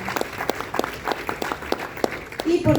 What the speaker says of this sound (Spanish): Fuerte las palmas, por favor,